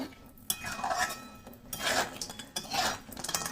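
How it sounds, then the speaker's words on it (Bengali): Crabs stir-fried with spices in a pan for a yogurt crab curry, heard as repeated close metal spatula scrapes and clinks against the pan over a faint sizzle, in uneven bursts. "হ্যাঁ কাঁকড়াগুলো কষিয়ে নেব,"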